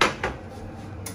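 A metal frying pan clunks down on a stove, followed by a couple of lighter clatters, close and fairly quiet.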